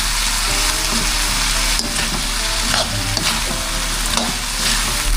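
Frying and stirring in a pan with coconut milk, chili and pepper, a steady close sizzle with scraping stirs throughout and no talking.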